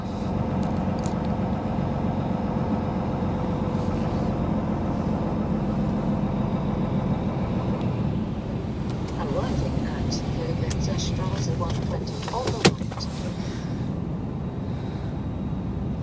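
A truck engine idles in a steady low rumble near a German overnight garage in Goch while carrying aluminum coil, with someone talking over it and a brief click near the end.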